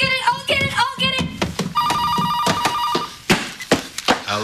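An old-style telephone bell rings in a steady trilling burst through the middle of a sitcom domestic scene, close and clear, with people talking around it.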